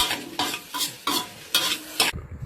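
Fried rice stir-fried with sugar and Rosa tomato sauce: a spatula scrapes and tosses the rice in about five rhythmic strokes over a soft sizzle, close and clear with no talking.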